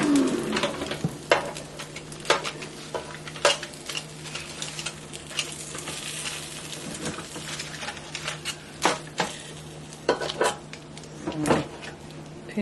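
Chicken thighs being flipped in an air fryer pan: scattered sharp clanks and scrapes of tongs against the metal pan, sounding close against a soft background hum.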